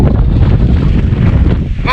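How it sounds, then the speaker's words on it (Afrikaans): Strong wind buffets the microphone outdoors on a winter fishing trip at Bosparadys, a loud, steady rumbling roar that fills the whole moment with no break. "Oh, this wind!"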